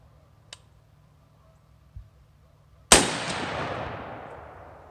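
A single loud gunshot rings out while zeroing a Holosun red dot at 100 yards, a sharp crack followed by a long, fading outdoor echo, with a couple of faint clicks beforehand.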